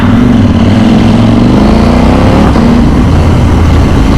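A KTM motorcycle engine, apparently a 1290 Adventure though named as a 790 Duke, revs loudly and steadily with a rising pitch across the whole stretch, close to the microphone and with no talk.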